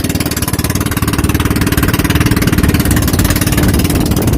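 A loud, steady fishing boat engine drones continuously with a rapid low throbbing pulse, running close by without pause.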